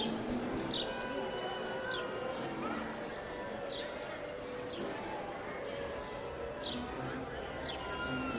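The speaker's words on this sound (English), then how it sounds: "Listen to all the birds." Scattered high bird chirps ring out repeatedly over a steady background murmur of crowd noise and distant chatter at Magic Kingdom, Walt Disney World Resort.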